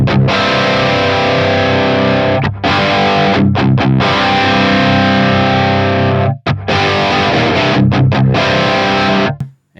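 Heavily distorted electric guitar through a Line 6 Helix modeler with dual cabinets, loud sustained chords with a few short pauses and choppy palm-muted breaks, bright and dense, no speech.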